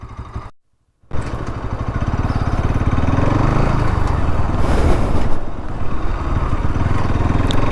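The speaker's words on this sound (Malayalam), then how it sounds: "സോ നമുക്കിനി എന്തായാലും വണ്ടി ഒന്ന് ഡ്രൈവ് ചെയ്യാം." A 2025 Bajaj Pulsar NS 200 motorcycle engine runs loud and close while riding, a steady throbbing drone after a brief dropout near the start, building slightly in the middle.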